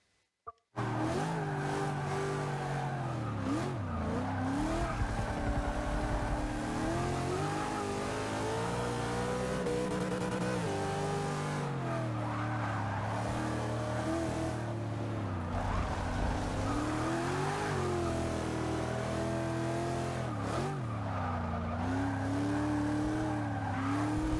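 Race cars in the Forza racing game roar steadily around a track, engines rising and falling through gear shifts with occasional tire squeal. The sound is continuous, loud and close, with no voice.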